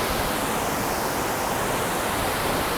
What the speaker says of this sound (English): Those falls are absolutely awe-inspiring.